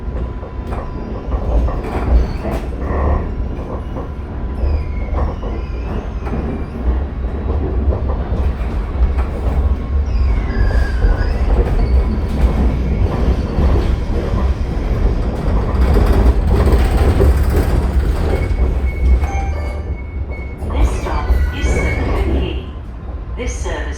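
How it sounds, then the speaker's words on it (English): An Alstom Citadis 305 light rail tram in Sydney rumbles and clatters along its rails around a bend with occasional wheel squeals, a continuous loud rolling noise, with voices talking over it. "watch the tram make its final turn around the bend"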